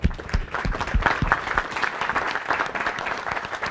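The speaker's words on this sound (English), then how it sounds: "All right, give him a round of applause." Workshop audience applauding together, a dense steady wash of claps at moderate loudness that holds evenly throughout with no talk over it.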